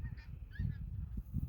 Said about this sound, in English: The geese are flying over us.